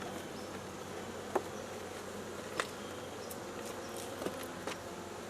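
Honeybees hum continuously around an open hive during winter preparation, a dense, even drone with a few faint clicks and knocks scattered through it and no voices.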